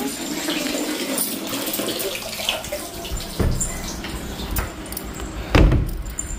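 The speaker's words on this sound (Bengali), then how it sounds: "জল পড়ছে নাকি?" Water runs from a tap in a home kitchen, a steady hissing stream, with a few clunks and knocks of handled objects breaking through, close by.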